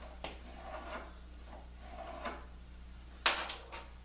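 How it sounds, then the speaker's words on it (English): Glue being spread onto wooden pieces for a shuffleboard light, heard as soft, faint rubbing and brushing strokes in a quiet room, with a few scattered light taps and one sharper knock near the end. "I'm gonna put some glue on it."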